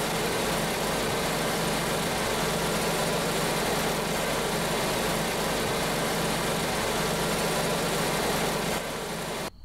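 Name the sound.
car engine idling roughly, shaking and vibrating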